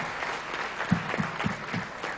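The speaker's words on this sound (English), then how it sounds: "I think we should give them a big round of applause." An audience at a chartered accountants' event gives brief applause, thinner clapping with a few distinct louder claps standing out, heard fairly close.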